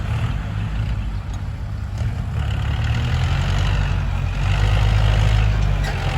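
A Kubota tractor engine runs steadily at close range while levelling a rice field, a loud continuous low rumble that rises slightly toward the end.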